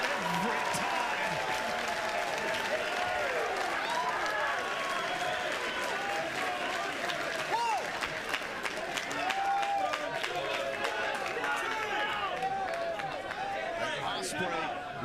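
A sold-out professional wrestling crowd in Chicago roars and cheers continuously during a match, a loud, dense wall of crowd noise with a commentator talking over it.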